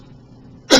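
A single short, sharp cough bursts out at the very end after a near-silent pause.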